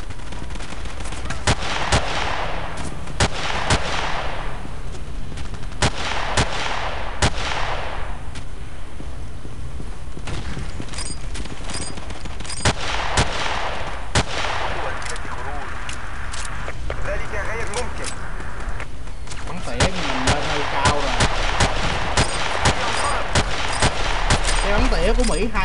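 Gunfire in a 16 vs 16 Battlefield 2 match, loud repeated weapon shots and bursts throughout, with players talking over the game audio.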